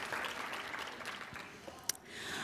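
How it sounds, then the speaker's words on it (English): Light applause from a small audience at a medical lecture, scattered claps thinning out over a couple of seconds, with a sharp knock near the end. "Can we give them a round of applause?"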